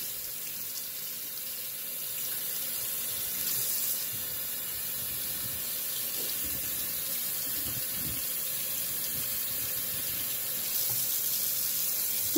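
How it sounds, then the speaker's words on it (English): Soapy hands are rinsed under a running tap, with a steady, close hiss and splash of water flowing into a sink throughout, and small shifts as the hands move in the stream. "he's gonna put them under the water, facing downward. He's gonna get all that soap off."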